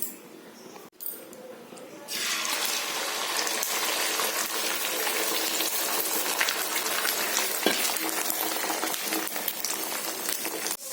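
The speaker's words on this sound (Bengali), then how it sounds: "চলো ডিমটা ঝটপট ভেজে দিই।" An egg hits hot oil in a pan and bursts into a loud, crackling sizzle after a quiet start, then sputters steadily and close up for several seconds.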